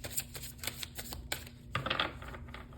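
Tarot cards being shuffled by hand, a run of crisp, quick riffling snaps and flutters in short bursts, close and fairly quiet, with a longer rustling shuffle near the end.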